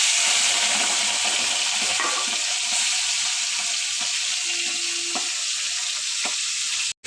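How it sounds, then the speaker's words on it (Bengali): Fish frying in hot oil for a prawn and vegetable curry gives a loud, steady, close sizzle with a few faint clinks, cutting off abruptly at the end. "মাছটা ভেজে তুলে নিয়েছি।"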